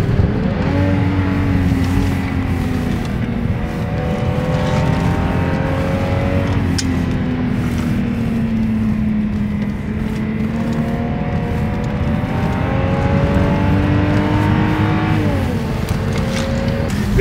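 Cars racing along the Nürburgring Nordschleife, a BMW E36 among them, with a steady engine drone whose pitch climbs and falls through gear changes, near and continuous throughout.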